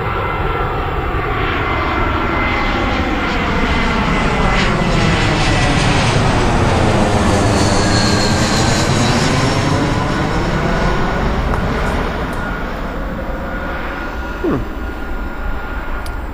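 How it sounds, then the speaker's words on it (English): Airplane flying low overhead on approach to Gatwick Airport, a loud, steady roar that swells and sweeps in pitch as it passes close above, sustained throughout with no talk. "I was still looking for somewhere decent to watch the aircraft come into Gatwick."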